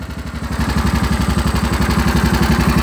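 A 1999 Mule utility vehicle's engine runs close by, loud and pulsing steadily at a quick idle, with a raw, louder tone from a hole in the side of its exhaust.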